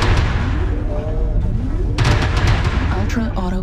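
Airstrike explosions in a mech combat video game: heavy booms and rumbling blasts crowd together over a dense low roar, loud and close, with a synthesized voice speaking during the barrage.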